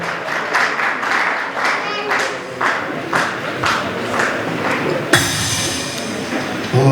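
Audience applause for the fathers at a church gathering, a steady mass of clapping with crowd noise throughout, swelling louder near the end, with no one speaking over it.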